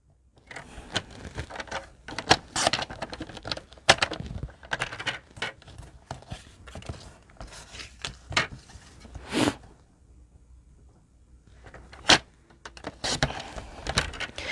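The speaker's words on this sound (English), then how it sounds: "So I'm going to grab my trimmer again. And I am going to cut those off." Paper trimmer slicing edges off paper for a card-making project: a series of sharp scraping cuts and clicks in irregular bursts, close by, with quieter gaps between them.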